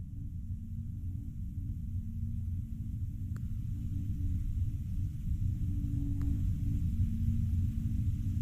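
Electron rocket's single second-stage engine firing in flight, a steady deep rumble with a constant low hum running unbroken, two faint ticks sounding over it.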